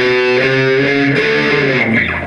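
Loud, overdriven electric guitar plays a riff, chords building up and hitting with sustained distorted notes, a short burst with no talk.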